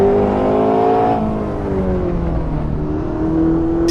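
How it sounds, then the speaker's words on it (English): A Ferrari 488 GTB flat-plane crank engine in the Assetto Corsa racing game revs loudly and continuously, its pitch sliding down and then climbing again under steady throttle, with no voices. "Still got that flat plain crank whop that you expect to hear in a Ferrari, that really distinctive note"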